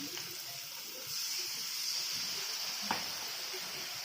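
A small splash of water hits chicken masala with potatoes in a hot pan, setting off a steady hissing sizzle that swells and holds, with a faint clink of a utensil.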